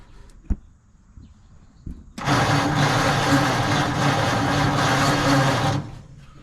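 The engine of a 1948 Ford F5 truck cranks on a fresh battery, a loud, steady whirring rumble that runs for about three and a half seconds and then cuts off. A few faint clicks and knocks come before it.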